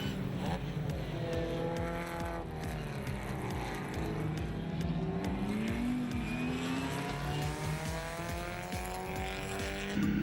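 Race cars power through a corkscrew turn, engines whining and shifting pitch over several overlapping cars, with a steady roar filling the whole stretch.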